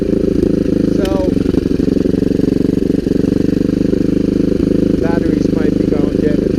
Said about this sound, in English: That might be the puttering you hear.